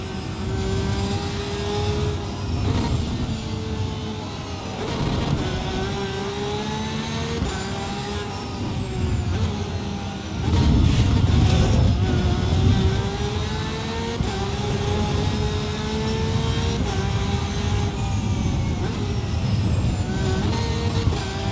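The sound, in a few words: race car engine overtaking in video game Assetto Corsa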